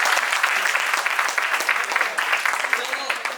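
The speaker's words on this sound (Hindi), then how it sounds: "एक बार ताली बजाइए इनके लिए" Lively clapping from a college audience at a filmmaking talk, steady and fairly close throughout with a few sharper claps, the room otherwise free of low rumble.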